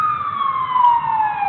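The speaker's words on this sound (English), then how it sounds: "You can do the siren." A police siren wails steadily close by, its tone sliding slowly downward over a low rumbling engine.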